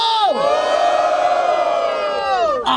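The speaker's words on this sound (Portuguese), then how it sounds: "Barulho para as rimas de Marco!" A crowd cheers and shouts loudly throughout a rap battle held in Barueri, São Paulo, with a sustained roar of voices and whoops filling the whole clip, close and dense.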